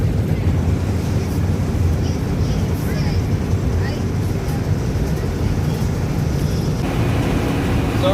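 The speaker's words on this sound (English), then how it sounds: "super crazy windy" Strong wind gusts roar and buffet continuously around a moving car, a loud, dense rushing noise filling the cabin with no let-up.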